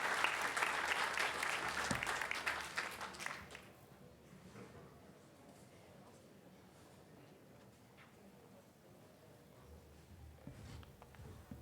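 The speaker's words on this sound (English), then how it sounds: "If we could put a round of applause, your hands together for Natalie and Melanie." A burst of applause from a small conference audience fades out after a few seconds, leaving quiet room noise and faint shuffling.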